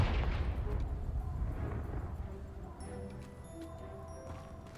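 A Confringo blasting spell detonates in the Hogwarts Legacy video game, a dense low rumbling blast that opens the clip loudly and slowly decays over several seconds, with faint tonal game effects ringing out toward the end.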